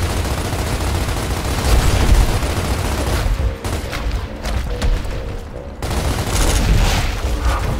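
Rapid gunfire and explosive bursts from the Gears of War video game, loud and sustained with brief lulls between dense volleys.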